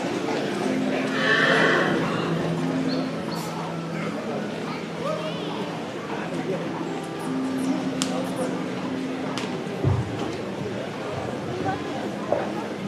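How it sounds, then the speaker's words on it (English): A Dutch Harness stallion at a sale presentation at an equine center whinnies loudly early on, with faint hoof clip-clops and steady crowd and announcer talk underneath throughout. "Just a good example of a young green horse."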